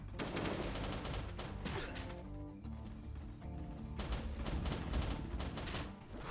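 Sustained assault rifle fire in the survival video game Last Day on Earth, a dense, loud, continuous rattle of rapid shots that barely lets up, with brief shifts in intensity and no talking.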